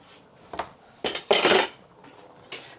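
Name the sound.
mixing corned beef hash with gravy granules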